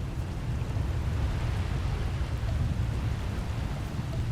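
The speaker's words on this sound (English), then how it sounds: "Looks like the storm's not letting up anytime soon." Stormy weather in a Star Wars video game, a steady dense hiss of heavy rain with low rumbling underneath, constant and fairly loud with no voices.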